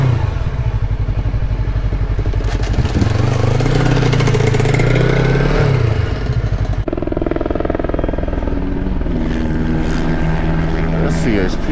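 A CHP aircraft passes low over a small motorcycle race track, a loud droning engine and rotor roar that swells and then fades, mixed with nearby engine noise.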